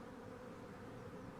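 Honey bees hum in a thick, unbroken buzz at a chimney where a colony is being smoked out, low in level and steady from start to finish, without talk.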